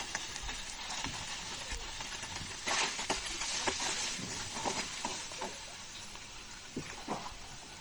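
Ginger, garlic and cumin paste frying with turmeric, chili, coriander and cumin powders and salt, a continuous sizzle with scattered crackles and occasional stirring scrapes, no talk.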